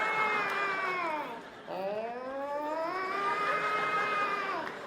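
A human voice imitates a tornado warning siren with two long, wavering wails, the first sliding down and the second rising and holding before it tapers off.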